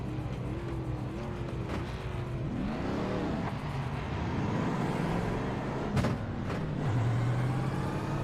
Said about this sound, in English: Someone behind's revving their engine